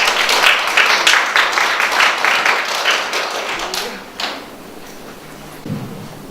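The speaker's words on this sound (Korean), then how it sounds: "큰 박수 부탁드립니다" An audience at a 2018 dance symposium in a hall applauds, with dense, loud clapping that holds for about four seconds and then quickly thins out to a few scattered claps and room noise.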